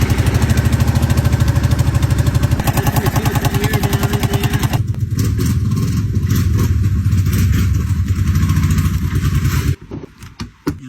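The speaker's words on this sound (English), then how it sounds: "we got the 2010 Kawasaki Brute Force 750 with the exhaust leak" A 2010 Kawasaki Brute Force 750 ATV with an exhaust leak runs loudly up close, a fast rhythmic chugging putter that shifts pitch midway and cuts off near the end.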